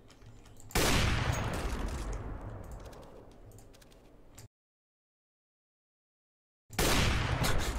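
Gunfire in the CS:GO video game bursts in loud and close, a dense rattle of rapid shots that tails off over a few seconds, then cuts to silence before another heavy burst starts.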